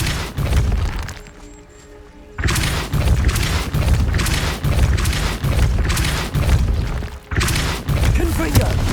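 Depulso spell blasts in the Hogwarts Legacy video game ring out as loud, repeated booming impacts amid a dense, continuous clatter of combat effects, with a brief quieter lull early on.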